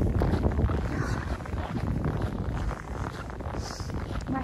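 Wind rumbles across a microphone on a cold, snowy night walk, a dense low buffeting roar that swells and eases unevenly, with faint rustling of clothing and no clear talk.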